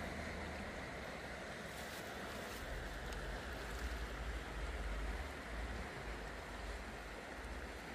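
Steady, broad rushing of a flowing river, constant and fairly loud throughout, with a slight swell in the middle and no voices.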